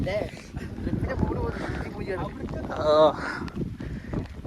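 Steady wind rushes and buffets outdoors beneath continuous chatter from several voices, with a brief louder gust or shout near the end.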